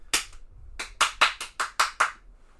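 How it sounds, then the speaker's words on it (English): A quick run of sharp hand claps: one isolated clap, then a brisk burst of about six more in steady succession. All are close and crisp, with no talking. "Clap real quick. Just clap in the frame."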